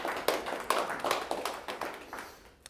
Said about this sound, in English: And then another applause for all of our community members that are here today.